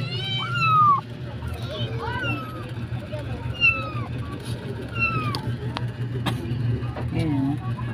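Several young kittens meow repeatedly in short, high, rising-and-falling cries over a low background hum, while a person talks softly nearby.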